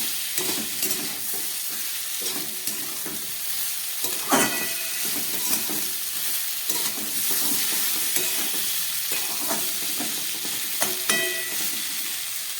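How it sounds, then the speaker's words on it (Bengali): Winter mixed vegetables with tomato and green chillies fry and sizzle steadily in a pan, with scraping stir strokes coming back at irregular intervals. "এগুলোকে ভালো করে একটু ভেজে নিয়ে জল দিয়ে দেবো"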